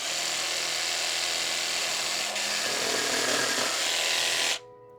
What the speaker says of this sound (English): So let's try my new jigsaw for the first time.